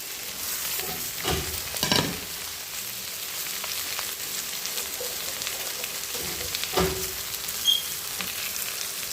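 Mustard greens sizzle steadily in a hot pan while being stirred, with a few louder scraping stirs standing out over the continuous frying hiss.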